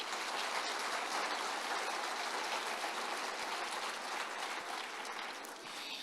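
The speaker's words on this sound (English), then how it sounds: "Let's give our Media Services and Production Printing a round of applause." Sustained audience applause at an awards ceremony, steady and dense clapping from a large crowd throughout, fading slightly toward the end.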